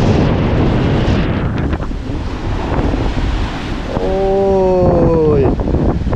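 Steady seashore wind roars across the microphone over crashing surf, loud and constant, while a voice calls out briefly partway through.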